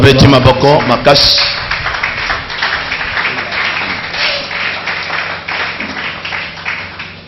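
A church congregation applauds loudly and steadily, sustained clapping filling the space while a voice speaks over it at the start.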